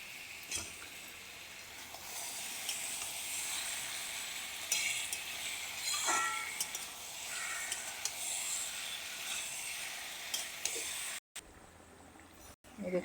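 Taro and prawns sizzle steadily in a pan, a continuous close frying hiss with occasional stirring scrapes, lasting throughout before a brief cutoff near the end; a voice speaks over it at times.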